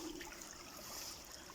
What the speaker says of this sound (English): listen to the water running, which is nice